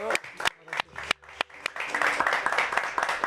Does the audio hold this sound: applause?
yes